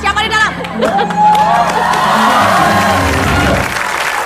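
Studio audience applause and cheering on an Indonesian television talk show, a steady wash of clapping and whoops that builds and holds, with a host's voice speaking over the crowd.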